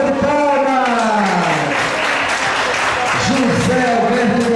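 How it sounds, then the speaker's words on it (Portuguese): A television audience applauds in a steady wash of clapping while a presenter keeps talking loudly over it. "José Alberto de Almeida, de João Pessoa, salva de palmas!"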